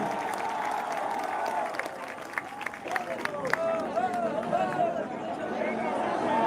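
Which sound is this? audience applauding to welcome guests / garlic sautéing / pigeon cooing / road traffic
audience applauding to welcome guests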